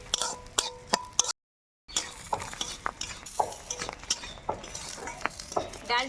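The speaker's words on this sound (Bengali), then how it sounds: "ঘির সঙ্গে আগে ডালটা ভেজে নেব" Moong dal frying in ghee in a pan, with a spoon stirring and scraping against the metal in irregular clinks and taps over a soft sizzle, close by.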